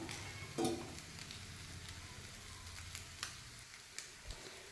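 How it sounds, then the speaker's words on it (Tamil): Flattened rice being lightly stirred in a pan, with soft scraping and a faint sizzle and a few scattered clicks of the utensil against the pan. "இந்த மாதிரி கிண்டிக்கோங்க. லைட்டாக கிண்டிட்டா போதும்."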